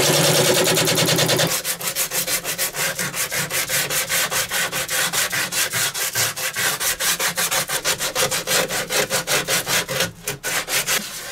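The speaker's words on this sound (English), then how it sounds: "sanding this piece" Steady hand sanding of a wood blank after tool marks are cleaned off, a close, continuous rasping rub with quick regular back-and-forth strokes through most of the stretch, following a brief denser scraping at the start.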